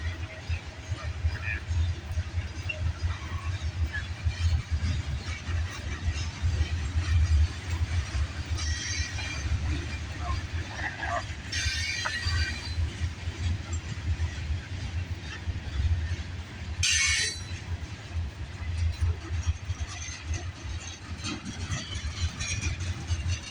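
A CN freight train passing, heard as a continuous low rumble and engine drone running the whole time, with brief higher screeches and a few faint voices mixed in.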